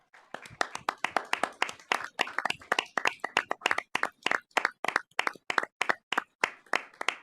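Applause at a school board meeting, a small group clapping in a fairly even rhythm of sharp individual claps, close and clear, lasting throughout.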